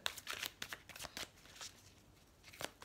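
Oracle cards being shuffled by hand, a quick series of crisp papery riffles and flicks, close and fairly quiet, with a couple of cards slipping loose near the end.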